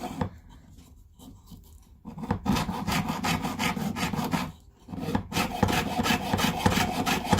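Jeweler's hand saw blade cutting through a double layer of sheet metal for earrings, starting with a few light notching strokes, then fast rhythmic rasping back-and-forth strokes, close and loud, with a brief pause midway.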